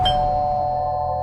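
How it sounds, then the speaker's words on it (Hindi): A doorbell rings once, a bright sustained chime tone that rings out and slowly fades, close and clear with nothing else heard. "दरवाजे की घंटी बजी"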